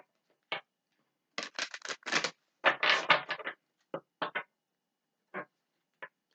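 An oracle card deck shuffled by hand in a quiet room, producing separate short bursts of card rustle and slaps with clear gaps between them, a dense cluster in the middle and a few isolated flicks at the end.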